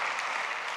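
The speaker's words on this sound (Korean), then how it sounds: "말씀을 전해주신 허신욱 교수님께 뜨겁게 박수 한번 부탁드리겠습니다" Applause for a professor after his sermon at a Tuesday chapel service at a seminary university, a brief steady wash of clapping from the gathered congregation with no voices over it.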